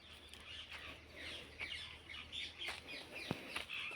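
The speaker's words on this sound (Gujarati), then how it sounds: "પંખી આપણને બોલે છે પોપટ ને એવું બધું બોલે છે" Birds, including parrots, call faintly from a distance in a series of short, repeated chirps and squawks scattered across a quiet outdoor setting.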